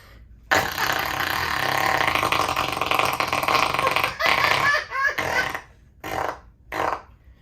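A person imitates flatulence with their mouth, long buzzing blats followed by several shorter bursts, close and loud.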